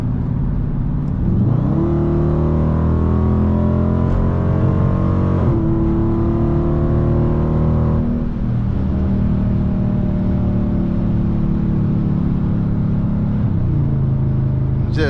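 A Ram RT with a 5.7 Hemi accelerates hard from 70 to 100. The loud engine note rises through the gears with clear shift breaks, and the exhaust rumbles close by.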